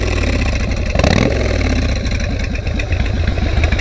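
A 14-year-old Harley-Davidson motorcycle with short shocks runs loud, its engine pulsing in a rough, throbbing clatter with a brief swell near one second, close and alone.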